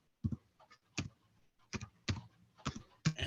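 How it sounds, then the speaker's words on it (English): Someone types on a computer keyboard, a quiet, close run of separate key clicks falling in small uneven bursts for a few seconds with no voice. "I can hear somebody typing there."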